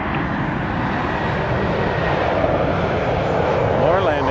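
Aircraft landing at Toronto Pearson airport at night, a loud sustained engine roar that swells slightly over several seconds, with radio chatter and talk underneath.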